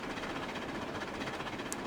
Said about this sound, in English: I do wonder how fast this train can go